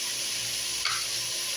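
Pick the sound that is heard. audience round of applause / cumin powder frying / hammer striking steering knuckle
cumin powder frying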